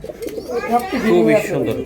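A racing pigeon gives a short, close, rolling coo of a couple of seconds, loud and throaty, with a voice present nearby.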